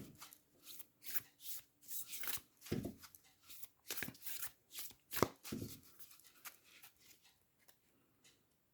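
Oracle cards shuffled by hand for a tarot reading, a run of quick crisp riffles and soft slaps in uneven bursts, close and dry with no talk, tapering to a few light taps at the end.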